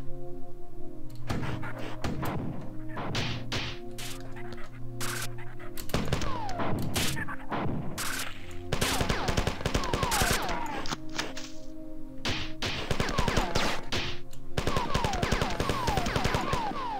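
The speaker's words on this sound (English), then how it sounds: "I shouldn't have got cute with using my assault rifle" Assault rifle fire in the classic Bungie shooter Marathon, rapid bursts of sharp shots repeating steadily over a dense layer of game sound effects, with no talking.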